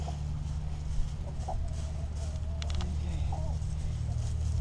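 Chickens cluck now and then in a coop, faint, sparse calls over a steady low hum, with no voices.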